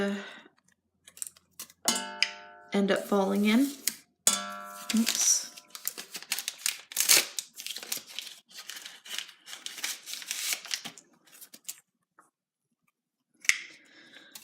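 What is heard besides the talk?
scissors cutting strings off tea bags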